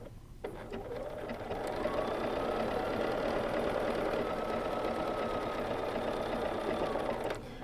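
A BERNINA sewing machine runs steadily during free-motion quilting with a ruler, a continuous close mechanical whir that starts abruptly, holds an even pace for several seconds, then stops.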